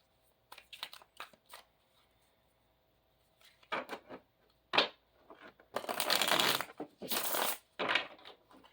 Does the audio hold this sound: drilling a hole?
no